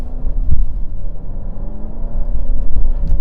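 A 2023 Alfa Romeo Giulia Estrema AWD drops into first gear and pulls away, its engine rumbling low and steady from inside the cabin with a rising surge partway through.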